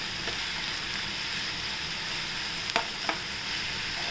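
Chopped onions sautéing in a pan for a cowpea green vegetable dish, a steady broadband sizzle throughout with a couple of sharp spatula scrapes and clicks near the end, no voices.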